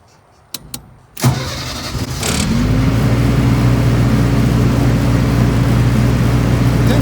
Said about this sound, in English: after you start the generator